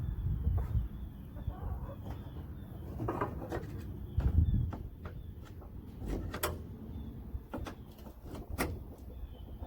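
Chickens clucking softly at close range, with scattered clicks and knocks of movement around them.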